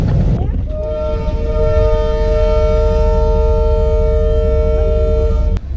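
A Jand passenger train at a Pakistani railway station, its loud sustained horn blaring over a heavy low engine rumble for several seconds before cutting off abruptly.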